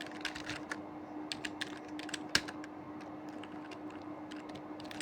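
Fast, irregular clicking of a computer keyboard as React code is typed, steady keystrokes close and fairly quiet over a faint hum, one sharper key strike midway.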